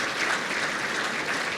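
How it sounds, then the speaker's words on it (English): A crowd at a chamber of commerce state-of-the-city event applauds, a brief, even burst of dense clapping. "Let's give them a round of applause."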